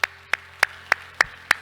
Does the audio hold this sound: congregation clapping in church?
yes